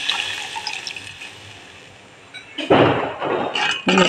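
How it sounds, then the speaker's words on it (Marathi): Water splashes and pours noisily into a metal pan in a couple of bursts while making mung dal pithla, with faint clinks and background noise beforehand. "पाणी ओतलंय"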